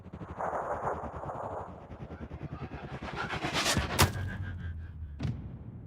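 Gunfire in the video game Sniper Ghost Warrior Contracts, a Siberian stealth mission: rapid, rhythmic bursts like an automatic weapon run for several seconds, then a few louder sharp shots with a booming low tail stand out near the end.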